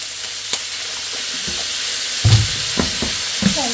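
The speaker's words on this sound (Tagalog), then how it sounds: "Lagyan natin ng soy sauce." Chicken feet frying in a pan hiss steadily, then a loud sizzling burst flares as soy sauce is poured in, followed by a few smaller crackling surges.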